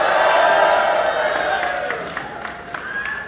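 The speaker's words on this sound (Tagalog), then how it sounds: "parinig naman ng isang malakas na sigawan" A rap battle crowd at the Pangil sa Pangil event, Poison 13 vs Rapido, roars with loud cheering, whoops and shouting plus some clapping, swelling at first and then slowly easing off.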